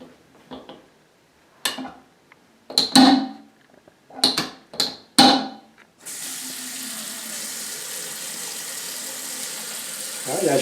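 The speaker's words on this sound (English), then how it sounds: "the water does flow nice and smoothly" Water runs from a tap into a freshly cleaned sink and drains smoothly in a steady close rush, after several sharp knocks and clunks from the plumbing being handled.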